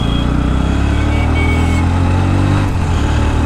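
A 2024 Bajaj Pulsar NS 125 motorcycle pulls hard along a road, its engine a loud, continuous close-up drone with a steady low rumble throughout.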